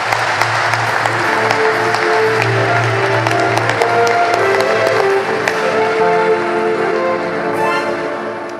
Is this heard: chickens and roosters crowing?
no